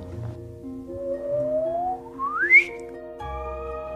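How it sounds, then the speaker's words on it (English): Gravitational-wave chirp from merging neutron stars rendered as sound: a whistle-like tone sweeping steadily upward in pitch and ending in a sharp peak, over a quiet sustained drone, with no talking. "Take neutron stars in the act of merging. They make this wonderful chirp."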